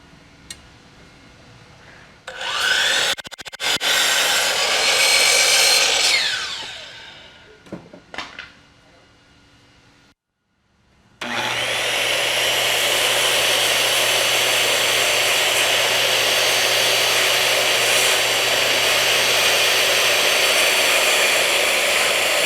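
A power saw cuts a wooden stair stringer at the bottom and top during a stair installation, with loud high-pitched whining bursts, a pause, then a long sustained cutting run close by.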